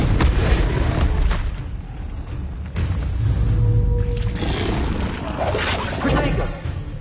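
A Confringo blasting spell in Hogwarts Legacy erupts in repeated booming explosions, heavy low-end bursts and rumbling crackle recurring through combat with game sound effects.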